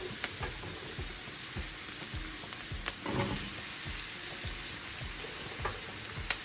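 Zucchini and tomatoes sizzle steadily in a hot pan while a utensil stirs and scrapes in a regular rhythm, close and continuous with no talking.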